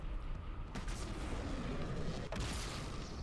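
Sniper jackals firing in the video game Halo 2, heavy booming shots over a dense, constant roar of battle noise, with two sharp cracks standing out.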